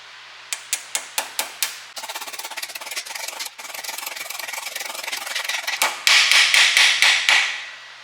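Hammering a part into the axle housing of a 1975 Monte Carlo: a run of sharp, evenly spaced metal blows, then a stretch of rapid rubbing and scraping, ending in a louder burst of ringing strikes, close and alone.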